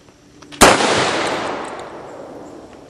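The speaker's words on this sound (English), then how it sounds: "BFG grenade test, 12 gauge load," An airsoft BFG grenade fired with a 12 gauge load gives a single sharp, loud, close blast followed by a long, slowly fading reverberant tail, with no talking.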